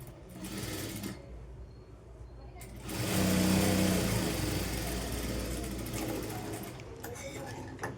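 Sewing machine stitching a blouse, a running motor whir that starts partway through and continues steadily, with someone talking over it.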